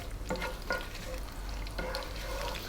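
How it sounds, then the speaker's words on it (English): Cumin seeds and dried chili frying in hot oil for a lentil curry, a soft sizzle with a few stirring scrapes, quiet and close, no speech. "we're going to put in the cumin seeds, and just for a few seconds we're going to let them do their thing"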